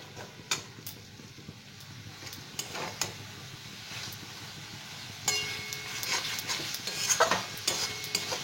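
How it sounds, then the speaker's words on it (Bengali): Spice paste for masoor dal tarka, loosened with a splash of water, is stir-fried in a kadai. It gives a soft sizzle with intermittent scraping and light metallic clinks of a spoon, which grow busier and louder toward the end. "মশলাটাকে কষিয়ে নেব।"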